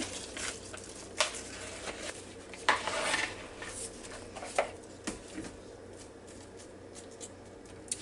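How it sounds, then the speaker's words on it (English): A spoon scrapes and stirs mayonnaise through chopped apple pieces in a bowl, giving soft irregular clicks and scrapes close by, with no talking. "let's just give this a good mixture. Stir it together."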